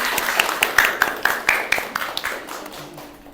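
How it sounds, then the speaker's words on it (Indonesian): A classroom group of students claps for each other, a brief, fairly near round of scattered hand claps that thins out and fades within a few seconds. "aplaus buat kalian semuanya"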